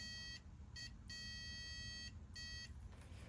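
Multimeter continuity tester beeping on Honda CL350 motorcycle wiring: several clear electronic tones in short bursts, one long steady beep in the middle, over a low background hum.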